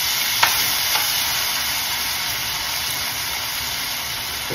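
Asafoetida, chopped ginger and garlic fry in a pan, a steady close sizzle and hiss with a couple of faint clinks early on, no talking.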